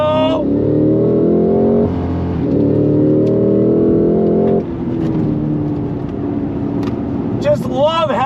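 A 2025 Cadillac CT5-V Blackwing Precision accelerates hard out of pit road on a track, its engine note climbing through gears with a shift, loud and close from inside the cabin, with voices briefly near the end.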